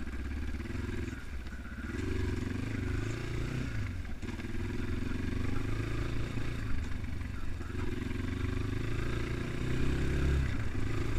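A Progasi Gaudi 300 motorcycle with a 174 engine is ridden at steady speed, its engine droning loudly and evenly throughout with some rattling and road noise.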